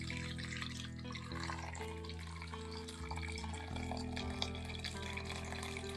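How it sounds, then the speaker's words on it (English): Water runs steadily from a tap while a pot is rinsed out during dandelion wine making, a continuous splashing flow with shifting tone as the pot fills and is moved under the stream. "So I'm going to rinse the pot out, get out all the old stuff, throw that out."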